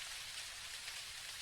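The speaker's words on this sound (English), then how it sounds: "Actually, yeah, it is raining." Rain in the video game Dinkum, a constant dense hiss of falling drops on surfaces, steady and even without pauses or talk.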